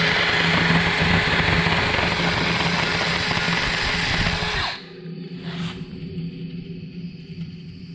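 A motor drives a homemade flying ghost prop in high gear with a loud, steady high-pitched whirring drone that cuts off abruptly partway through, leaving quieter mechanical noise behind.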